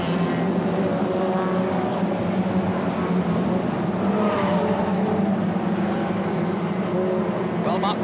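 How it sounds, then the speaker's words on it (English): Hot rod race cars circle a short oval track at a 1991 World Hot Rod Championship meeting, engines droning loudly and continuously under a commentator's voice, with a pack of cars passing slower ones. "Already they're beginning to come round behind some of the slower cars as Mel Cook looks for a chance on the outside"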